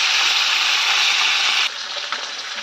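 Four pieces of fish fry in oil in a wok, giving a loud, dense, steady sizzle close by that drops abruptly to a quieter crackle partway through, with no talking.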